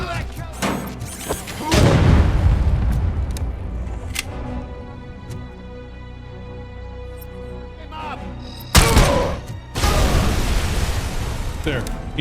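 Grenade blasts and gunfire in RoboCop: Rogue City come as heavy booming bursts near the start and again late on, loud and broadband, with someone talking over the game's sounds.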